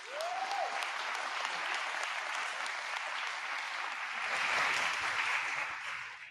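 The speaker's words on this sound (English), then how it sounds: "how about one round of applause for everybody?" A mayoral forum audience claps for the candidates, a sustained wash of applause that swells slightly near the end before fading.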